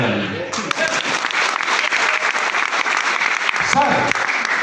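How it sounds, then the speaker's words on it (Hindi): A seated audience at a motivational stage talk breaks into sustained applause, dense and steady clapping throughout, with a voice briefly speaking over it at the start and again near the end. "ताली बजाइए।"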